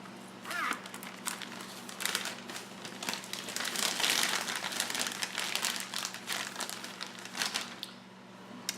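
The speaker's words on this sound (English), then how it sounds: "we're gonna just stick this into a Ziploc bag, a freezer safe Ziploc bag." A freezer-safe Ziploc bag crinkles and rustles close by while pie crust dough is packed into it, irregular crackling bursts over a low steady hum, with no speech.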